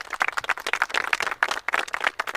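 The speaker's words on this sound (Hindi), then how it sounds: "इन तीनों के लिए जोरदार तालियां होनी चाहिए।" A studio audience claps for three contestants on the Mountain Dew Living On The Edge show, dense steady applause at moderate loudness with no voices over it.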